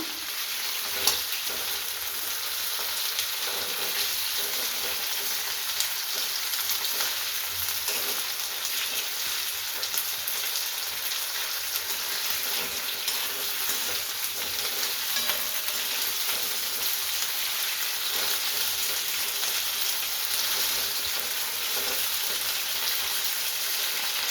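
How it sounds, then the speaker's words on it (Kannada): Thick-cut potatoes frying in oil, a dense, even crackling sizzle that runs unbroken and close throughout, with a few faint clinks, no voices. "ಆಲೂಗಡ್ಡೆನ ದಪ್ಪದಾಗಿ ಹಚ್ಕೊಂಡು ಈ ಥರ ಎಣ್ಣೆಯಲ್ಲಿ ಫ್ರೈ ಮಾಡಿ ತಕ್ಕೋಬೇಕು ಫಸ್ಟು"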